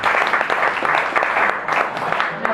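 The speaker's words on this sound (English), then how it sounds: "Now, don't clap too soon" A live audience applauds steadily and densely, a continuous wash of clapping hands at a talk about a man acquitted and freed, with no voices standing out above it.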